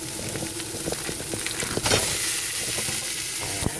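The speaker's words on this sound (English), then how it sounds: "Okay, I'm now going to add my ground beef." Ground beef fries in a pan inside a camper van with a steady, close sizzle, broken by frequent clicks and scrapes as it is stirred and broken up; no talking.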